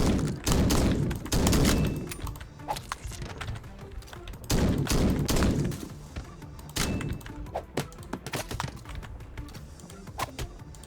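Gunfire in the video game MADNESS: Project Nexus, Classic Arena Mode: two loud booming bursts near the start and middle, followed by scattered sharper shots and thuds through the rest.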